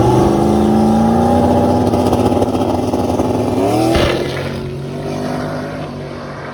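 A big block turbo drag race car makes a pass at a no prep track, its engine roaring loud and steady with rising pitch, then cutting off sharply and falling into a lower idle-like drone.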